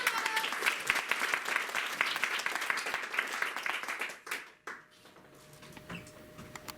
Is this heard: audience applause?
yes